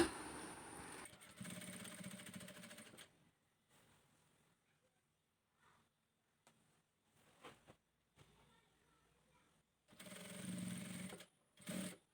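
Sewing machine stitching an open-front abaya, a steady mechanical whirring run in two bursts at the start and near the end, with quiet handling and pauses between.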